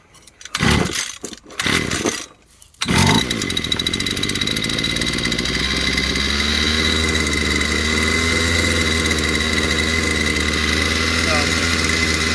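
Small two-stroke gas engine of a hand-held string trimmer with no line fitted, sputtering through a few short bursts before catching and running steadily at a loud, even idle drone.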